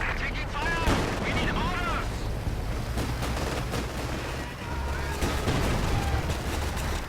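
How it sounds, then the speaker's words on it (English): Artillery and gunfire crackle and thud in a Company of Heroes 2 battle, a dense mix of blasts under the game's sound. A commentator talks over it. "See some base artillery coming in from this pyrotechnic supply equipped squad."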